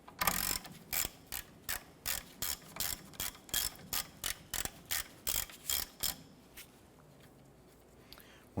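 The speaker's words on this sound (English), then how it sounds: "We're going to remove our two 14mm bolts holding our caliper bracket to the knuckle." Hand ratchet backing out 14mm caliper bracket bolts from the steering knuckle of a 1993-1997 Ford Ranger: a close, steady run of sharp clicks in an even rhythm lasting several seconds, then stopping, with no talk.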